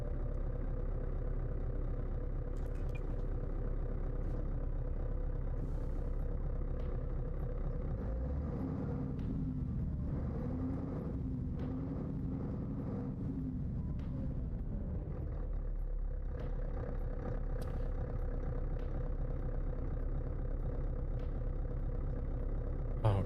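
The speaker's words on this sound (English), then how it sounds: "This engine mod sounds like the engine's been used and abused for quite a while." A worn, heavily used modded car engine idles in a video game, a continuous low rumble that holds steady for over twenty seconds, with a slight shift in tone partway through.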